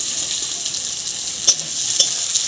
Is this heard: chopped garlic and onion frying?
yes